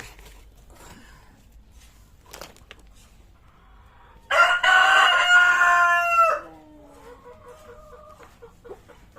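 A tiger-breed chicken clucks softly in short, scattered calls, then a rooster lets out one loud, close crow lasting about two seconds before the clucking resumes.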